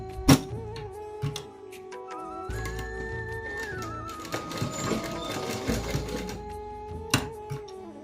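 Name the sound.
sewing machine stitching a fabric tassel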